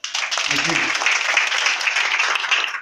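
Church congregation applauding during a deliverance service, a dense, loud wash of many hands clapping that runs the whole time, with a brief low voice near the start.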